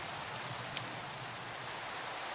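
Steady, even hiss of rain falling in the Minecraft video game, a dense wash of noise with no pauses and one tiny tick partway through, with no voices.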